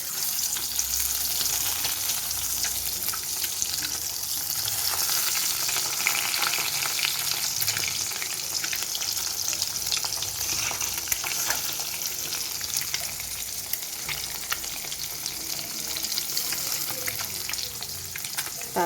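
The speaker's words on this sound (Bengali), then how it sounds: "এভাবে আমি পরপর ডিমগুলোকে কড়াইয়ের মধ্যে দিয়ে দেবো।" Eggs frying in hot oil in a kadai for egg posto: a loud, continuous crackling sizzle that holds steady throughout, with occasional stirring and no voices.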